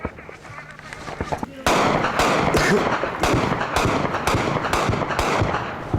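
Heavy 20 mm cannon fire in Afghanistan: sharp, loud bangs in rapid repeated bursts, close by, over a constant roar of echoing blasts after a quieter opening.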